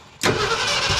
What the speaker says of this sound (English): I'm going to give it a couple of cranks on.